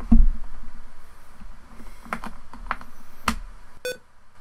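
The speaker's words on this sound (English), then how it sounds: "my charger cord is a bit loose, and sometimes it comes out and makes this beep noise" A short electronic beep near the end as a loose charger cord slips out, a quick stacked tone after scattered faint clicks and taps over a low background hum; no one speaks.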